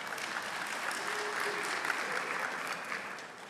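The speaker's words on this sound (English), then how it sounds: "You should wait till applaud to the end of the sermon" Steady, fairly faint applause from a synagogue congregation during a Rosh Hashanah sermon, an even wash of clapping that holds for the whole stretch.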